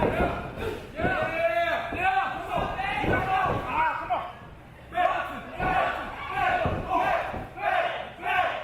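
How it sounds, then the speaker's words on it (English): A wrestling arena crowd roars and chants throughout a match between two wrestlers. Loud, surging cheers mix with thuds from the ring, while a commentator talks over the noise. "Crowd is electric here"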